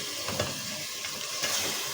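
Lentils go into a hot pan with grated and chopped tomatoes for a Pakistani-style lentil dish, giving a steady, close sizzle and frying hiss with no talking.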